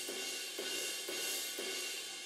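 A deep ride cymbal with processing and EQ, soloed from a pop punk drum mix, struck about four times at a steady pace with a washy, sustained shimmer between hits, alone and fairly quiet.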